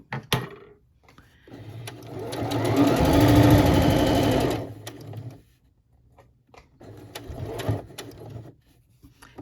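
A sewing machine stitches napkin fabric in a steady, fast mechanical whir lasting a couple of seconds, framed by softer clicks and brief stitching bursts before and after.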